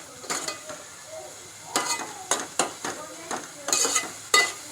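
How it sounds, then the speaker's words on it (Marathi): Green masala paste stirred and sautéed with onions in a pan for Agri-style mutton, giving a soft sizzle broken by repeated scraping and clinking of a spoon against the pot, close up with no talk. "ते पण जरा थोडं ग्रीन ग्रीन होईपर्यंत म्हणजे कांद्याला लागेपर्यंत आपण परतून घेऊया"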